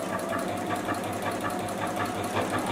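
JUKI sewing machine doing free-motion stitching on a beverage coaster, a steady close motor hum with a quick, even needle pulse running unbroken and no speech.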